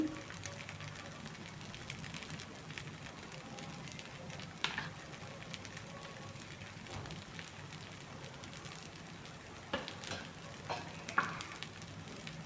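Millet dosa cooking in oil on a pan, a faint, steady crackling sizzle with a few soft clicks and taps, quiet and close.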